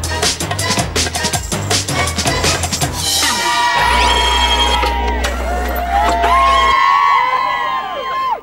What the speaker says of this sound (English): Yes, indeed, they're cheering because they're happy.